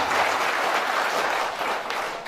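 An audience applauds at a seminar in Madhepura, Bihar, a dense burst of clapping that holds steady and then eases slightly toward the end.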